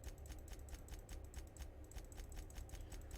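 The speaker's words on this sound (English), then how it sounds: "You can hear the clicking of a mouse." Quick, crisp clicks from a computer mouse, repeated in a steady irregular patter over a low hum while navigating a character creator in The Outer Worlds; no talking.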